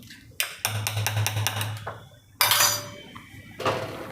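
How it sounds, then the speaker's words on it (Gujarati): Cornflour slurry poured into a coconut ice-cream mix while a utensil stirs and scrapes against the pot, with loud metallic clinks and clatters in bursts, close and alone. "હવે આને રેડતા જવાનું, હલાવતું જવાનું એટલે જામે નહીં"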